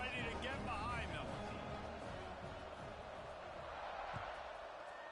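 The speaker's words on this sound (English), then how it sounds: "this crowd now ready to get behind them" A college football stadium crowd awaiting a kickoff, a broad distant roar and murmur filling the space, with a commentator's voice on top.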